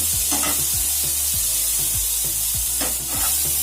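Potatoes fry loudly in a pan, a dense, close sizzle with regular scraping strokes from stirring running through it and no voices.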